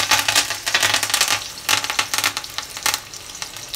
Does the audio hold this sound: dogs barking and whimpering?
no